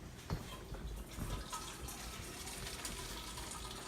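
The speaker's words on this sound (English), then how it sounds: "grab some warm water from our kettle that we used earlier" Warm water poured from a kettle into a bowl in a home kitchen, a quiet steady trickling splash with a couple of soft knocks near the start, faint and alone.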